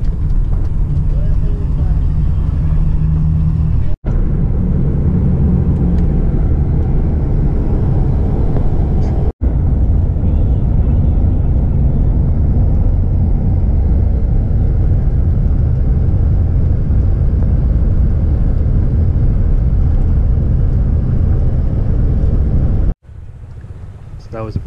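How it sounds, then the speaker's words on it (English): Inside a bus rolling through Northern Peru, a constant low engine drone and road rumble fills the cabin, broken by a couple of brief dropouts. "So that was a pretty nice bus ride."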